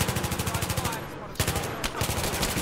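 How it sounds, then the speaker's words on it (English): Bursts of full-auto fire from an ACW assault rifle in Battlefield 3, rapid evenly spaced shots in two strings with a short break between them, loud and close. "It's a very nice assault rifle, very accurate even on full auto."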